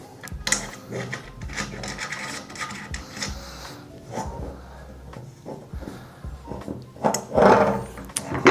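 Metal bolts being tightened with an Allen key on a reptile enclosure frame, giving irregular close rubbing, rasping and clicking scrapes with brief louder handling knocks toward the end.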